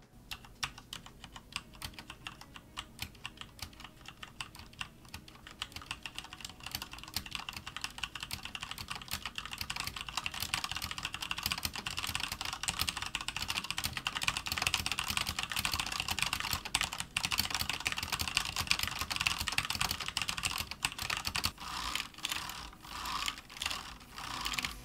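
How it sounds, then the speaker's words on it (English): Typing on a Cooler Master Masterkeys Pro S mechanical keyboard with linear Cherry MX Red switches: rapid, continuous clacking keystrokes, close and moderately loud, growing denser midway with occasional louder spacebar hits and no talking. "here's a quick typing test so you can get an idea of what the board acoustics are like"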